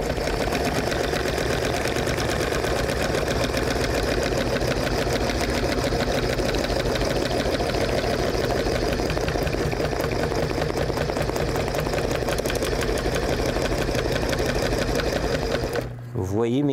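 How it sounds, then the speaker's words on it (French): A sewing machine stitching fabric runs loud and steady close by, its fast needle rhythm unbroken for nearly the whole stretch, stopping abruptly at the very end while a person talks over it. "quand tu commences à coudre avec ça, je vais vous montrer ce que ça fait."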